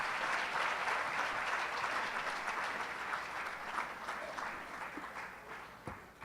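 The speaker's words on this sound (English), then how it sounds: "another round of applause for the recipients from St." Sustained applause from an awards ceremony crowd honoring recipients from St. Catherine at the 2017 JTA Golden Torch Awards, a steady dense clapping that tapers slightly toward the end.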